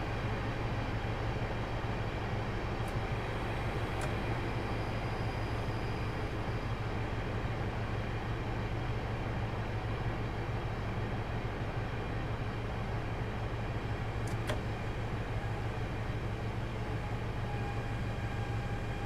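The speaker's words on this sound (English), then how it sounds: "I'm just going to allow the train to cruise along here" An HST passenger train in Train Simulator 2017 on the Swansea to Bristol Parkway route cruises slowly at around 20 mph, a steady low engine drone and rail rumble holding constant throughout, with a couple of faint clicks.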